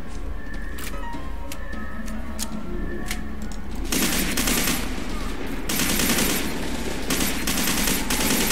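Gunfire in the first-person shooter F.E.A.R. 2: a few faint isolated shots under a low background hum, then dense, loud bursts of automatic fire from about four seconds on.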